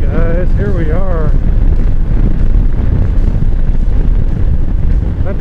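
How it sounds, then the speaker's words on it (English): Strong wind buffets a microphone outdoors, producing a loud, continuous low roar that fills the whole stretch. A brief tonal sound rises and falls near the start. "that wind is really blowing hard"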